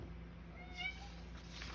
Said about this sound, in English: oops, my kitty's saying hello.